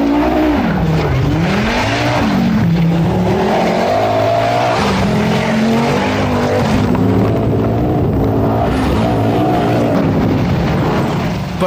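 A vintage long-wheelbase Audi Quattro rally car, running with a broken front drive shaft, roars loudly and continuously along a rally stage, its engine pitch rising and falling with gear changes and throttle, close and alone.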